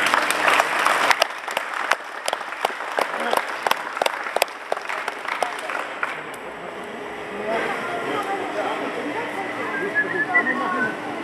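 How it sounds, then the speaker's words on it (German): Audience applause from a crowd at the removal of sheet pile walls, with rhythmic, fairly close clapping for several seconds that fades into outdoor ambience with pigeons cooing and some talk. "Vielleicht ist es Ihnen ein kleiner Applaus wert."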